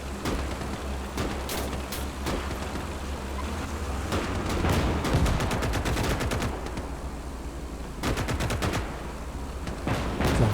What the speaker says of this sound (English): An anti-tank gun's engaging him because I don't have an anti-tank gun upright